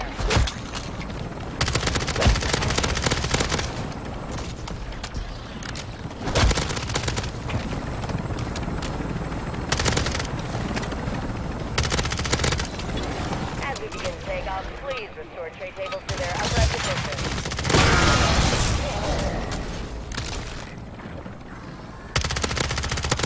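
Sustained automatic gunfire laying down cover in MW3 Zombies, loud and continuous bursts of machine-gun fire with dense rattling volleys, punctuated by heavier shots, mixed with game radio chatter and effects throughout.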